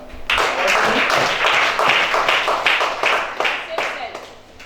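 An audience at a church sermon claps in a brisk, rhythmic beat, sharp repeated hand claps from a group, with voices mixed in underneath.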